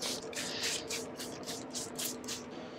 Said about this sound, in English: I'm going to go ahead and spray the paper here.